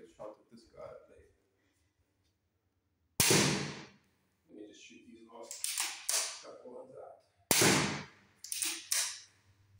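A TCS2 crossbow fitted with a CrossTactics Auto-Quiver fires two sharp, loud shots at targets on an outdoor course, several seconds apart, with someone talking between them.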